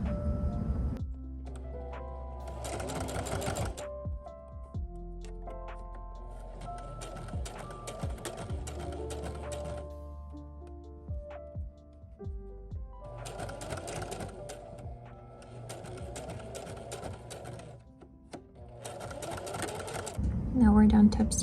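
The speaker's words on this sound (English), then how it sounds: "we're just going to top stitch over this opening really close to the edge" A sewing machine top stitches close to the edge of a fabric bookmark in several separate runs of rapid ticking stitches, with quiet pauses and clicks between passes.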